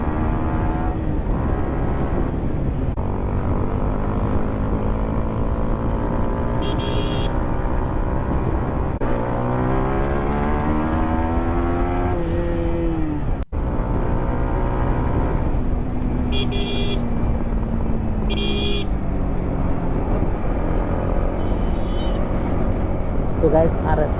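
A Yamaha R15 V4 and an RS200 race on a hill road, engines revving in repeated rising whines that drop between gear changes, with a steady roar and wind rush over a long stretch.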